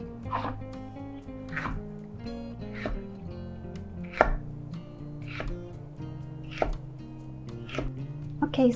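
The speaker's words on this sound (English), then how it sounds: "slice the onion. So 5mm slices" A knife slices an onion into thick pieces on a board, each cut a sharp knock in a slow, regular rhythm, with a faint steady tonal hum underneath.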